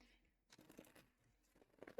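Tarot cards shuffled by hand: a few quiet, quick riffling and rustling bursts separated by short pauses, ending in a sharper snap.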